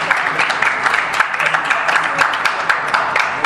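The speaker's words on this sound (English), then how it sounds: "Please let's give him a round of applause." Crowd at a wedding technology expo in Ghana claps for a speaker, a steady patter of individual hand claps that sound close and clear, with a faint murmur of voices underneath.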